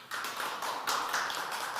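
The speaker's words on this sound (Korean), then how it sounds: "큰 박수로 맞이해 주시기 바랍니다." An audience claps to welcome a presenter at a Korean social venture event. Brief, dense applause in a hall rises quickly and holds steady for under two seconds.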